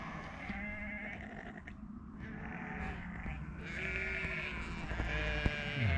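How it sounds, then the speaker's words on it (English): Several sheep bleat repeatedly outdoors near water, calls overlapping at moderate distance over steady wind and ambient noise, with a few sharper bleats near the end. "A bit more wildlife for you now. More sheep."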